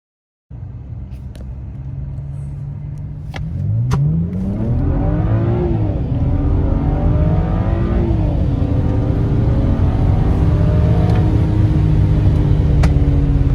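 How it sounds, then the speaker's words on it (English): A 2008 BMW 335xi engine idles with a steady low rumble, then revs up around four seconds and keeps running loud and close with rising and falling pitch. "The car should sound a lot better now."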